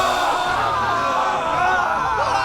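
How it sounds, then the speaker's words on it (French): Several men yell and whoop loudly together in a rowdy, continuous shouting burst, close and dense like an agitated group. "Mais pourquoi vous gueulez comme ça?"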